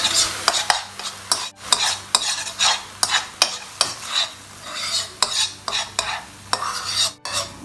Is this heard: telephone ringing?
no